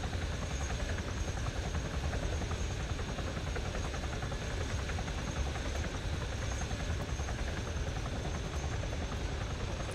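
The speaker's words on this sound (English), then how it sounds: "This guy will hop out of his helicopter." Helicopter landing in the video game Open Warlords, its rotor and engine producing a steady, dense, unbroken drone at moderate volume throughout, with no talk.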